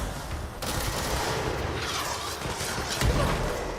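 Sustained heavy gunfire and crashing blasts from a rocket launcher in the video game Control, loud and continuous throughout with a stronger impact near the end.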